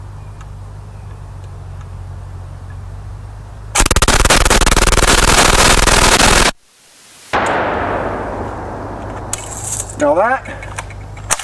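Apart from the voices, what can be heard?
firing a Yugo 53 rifle with 7.62x39mm conversion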